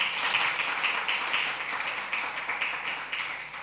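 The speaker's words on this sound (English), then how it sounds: "Give them a big hand clap." A church congregation applauds its worship team, giving a big hand clap: dense, continuous clapping from many people throughout, moderately loud and heard from within the crowd, without speech.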